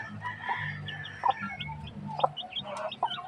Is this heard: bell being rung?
no